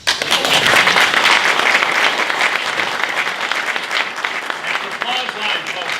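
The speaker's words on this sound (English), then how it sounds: "That's the applause line, folks. You want money, you got to keep clapping." Outdoor audience applause breaks out during a Virginia governor's speech at Leesylvania, a loud, dense burst of clapping that holds steady for about six seconds with some crowd noise.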